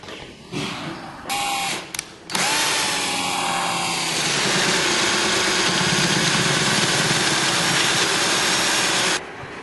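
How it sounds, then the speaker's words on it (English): A HANFAS 3D Rapid Jig boring a hole for auto-closing hinges, with a few short mechanical knocks followed by a loud, steady motorised whine and grind that holds for about seven seconds before stopping abruptly. "We are now ready to bore a hole for the auto closing hinges."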